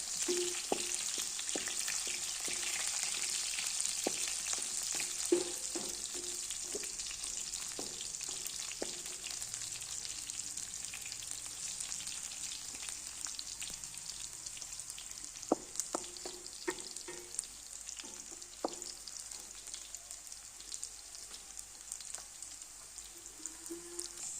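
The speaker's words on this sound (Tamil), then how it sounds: "கட் பண்ணி வச்சுருக்க பூண்டு எடுத்து போட்டுடலாம் இது எண்ணெயிலே கொஞ்சம் நல்லா பொரியட்டும்" Chopped garlic fries in hot oil for a pickle, giving a steady, dense sizzle with scattered crackles and occasional light clinks of a spoon against the pan throughout.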